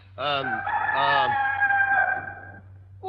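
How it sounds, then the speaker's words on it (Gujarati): A single rooster crow rings out close and loud, a long drawn-out call that trails off over a low background hum. "કુકડો."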